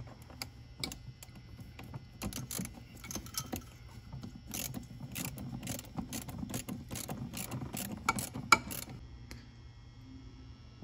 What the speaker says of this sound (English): With those band clamps tightened